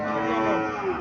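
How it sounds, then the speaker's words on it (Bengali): A Sahiwal cow gives one long, loud, close moo that fills the whole moment. "শাহিওয়াল জাতের গাভী"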